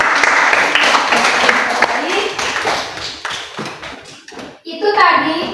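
A class of students claps for a classmate during a mathematics lesson, a scattered burst of hand claps mixed with children's voices and chatter, fading out before a short pause.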